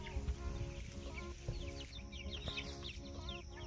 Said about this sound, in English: I have 28 chickens down in this cage now.